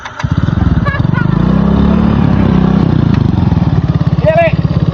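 A motorcycle engine idles nearby, left running, with a loud rapid putter that fills the whole stretch while people talk over it.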